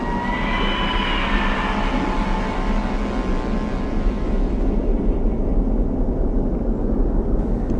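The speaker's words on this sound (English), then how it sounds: "this drone is quick, fun, and easy to use" A DJI Avata 2 FPV drone flies with a continuous high whine and rushing wind noise, steady and fairly loud throughout without pauses, no voices present.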